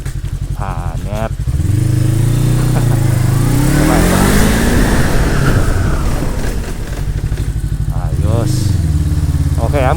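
A Bristol Veloce 500 motorcycle engine rises loudly as the rider speeds up, then the pitch falls away under braking before it idles and revs again, all heard up close with someone talking over it.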